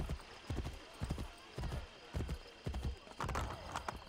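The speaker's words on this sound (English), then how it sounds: "Thank you, loyal horse." Horse galloping in Assassin's Creed Brotherhood, with rapid rhythmic hoofbeats in repeated bursts and a neigh mixed in, close and clear.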